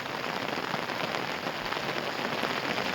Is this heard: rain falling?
yes